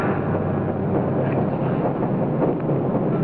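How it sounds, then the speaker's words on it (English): An airplane engine running rough in flight, from a 1953 film, gives a steady, close, full-bodied roar that drones on without a break for the whole stretch. "Engine's acting up already."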